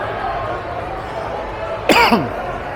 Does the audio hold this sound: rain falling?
no